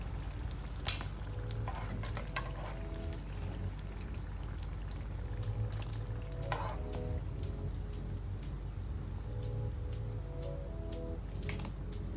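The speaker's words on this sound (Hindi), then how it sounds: "इसी तरह दोनों साइडें समोसों की फ्राई कर लीजिए ताकि इसके ऊपर एक अच्छा सा गोल्डन सा कलर आ जाए।" Chicken samosas frying in hot oil in a home kitchen, a steady bubbling sizzle with scattered crackles and pops that runs evenly throughout, with no one speaking.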